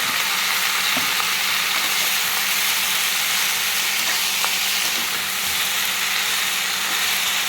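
Finely chopped, mashed banana stem hits a hot pan for a jhal thor posto, producing a loud, unbroken sizzle and hiss with a few faint clicks underneath, close and steady throughout.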